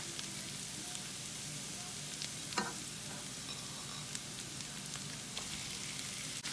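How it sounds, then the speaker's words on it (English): Ground beef frying in a pan with browning onions and garlic, a steady close sizzle with occasional light stirring clicks, no talking. "So now that our onions and our garlic are starting to brown, I'm gonna go ahead and add our beef."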